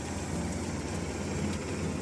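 A Honda Silver Wing 600GT motorcycle engine idles steadily just after an oil change, a continuous low rumble held at an even level for the whole stretch with no voices.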